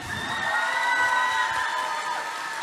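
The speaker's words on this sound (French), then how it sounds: "Est-ce qu'on peut les applaudir bien fort, s'il vous plaît?" Crowd at a cosplay contest cheering and applauding continuously, with whoops and high tonal sustained sounds riding over a steady wash of claps, moderately loud throughout.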